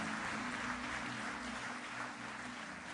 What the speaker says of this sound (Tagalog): Malakas na palakpak nga po.